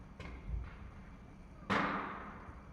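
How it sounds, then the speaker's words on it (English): A faint distant pop followed by a louder gunshot crack outside in New York City that rings out and fades, against steady low background noise. "That is definitely gunshots going on."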